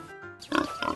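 Farm pigs grunt in a brief sound effect for a children's story, two quick, close, rough grunts in a row after a moment of near quiet.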